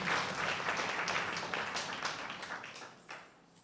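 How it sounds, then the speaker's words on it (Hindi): Audience at a Mother's Day cultural programme breaking into applause, a dense burst of clapping that tapers off over a few seconds, fairly distant and moderately loud. "इनके लिए एक जोरदार ताली"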